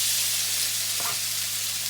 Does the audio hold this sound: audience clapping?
no